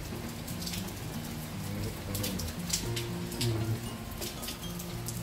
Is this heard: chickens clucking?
no